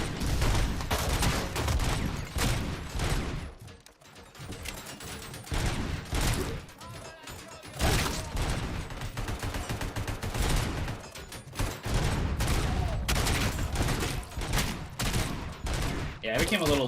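Rapid bursts of gunfire in RoboCop: Rogue City fill the stretch almost continuously, loud and dense, with brief lulls between volleys.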